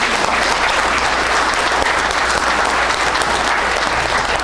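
An audience at a city's State of the City address claps in dense, continuous applause that stays loud and even throughout, with no talking.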